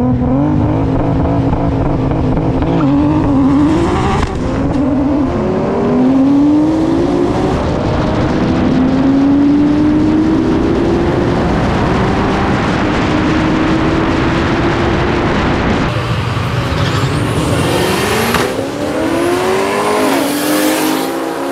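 A Nissan R32 GTR and a single-turbo FD RX7 drag race, with loud, continuous engine roar and rising, shifting revs through several gear changes, sustained throughout with no talking.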